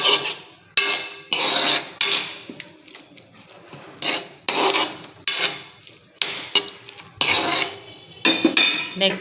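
A spoon scrapes and stirs a pan of masala, tomato and onion gravy with a little water added for soya curry, in rhythmic rasping strokes about a second apart, close and loud, with no voices.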